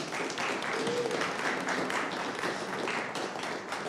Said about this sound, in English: I would love for just a subtle yet enthusiastic applause for the Daniel Mothershed